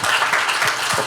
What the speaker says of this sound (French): on peut applaudir aussi pour cela